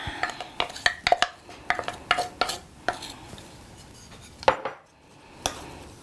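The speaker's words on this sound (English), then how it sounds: "We're going to incorporate this into the dry ingredients. This is going to be pretty sticky." Sticky Irish soda bread dough with caraway seeds being mixed into the dry ingredients in a bowl: irregular clinks and scrapes of a utensil against the bowl, sharp and uneven, fading to a few knocks at the end.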